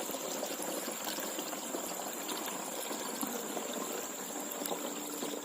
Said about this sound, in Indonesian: kita masukkan airnya.